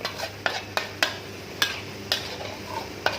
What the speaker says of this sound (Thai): คนคนคนไปแบบนี้ เติมน้ำได้เรื่อยๆครับ